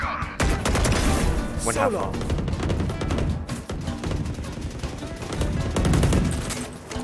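Rapid video game gunfire bursts crackle loudly and almost continuously through a tactical shooter round, mixed with excited player voices calling out positions over the shots.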